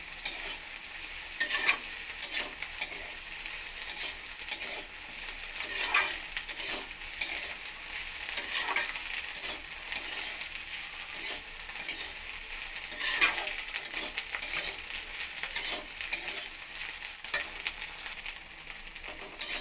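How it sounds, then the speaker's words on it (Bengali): Egg bhujia with yardlong beans, potato and eggplant is stirred in a frying pan over a gas flame, a steady scraping sizzle with spatula clicks and clatter running throughout, with no talking. "ভেজে রাখা ডিম ভুজিয়াটা দিয়ে আবারও একসঙ্গে মিশিয়ে নেবো"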